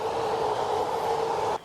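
A train passes near a nature reserve beside the Ronquières inclined plane, a loud steady rumble and rushing roar that cuts off abruptly near the end.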